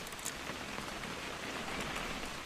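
Steady rain falls in the What Remains of Edith Finch game scene, a dense even hiss of drops spread across the whole clip with no talk over it.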